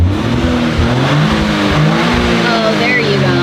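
A Toyota GR Corolla engine revs loudly from close range in its full track mode, a sustained rising and falling engine note that runs throughout. A voice talks over the engine.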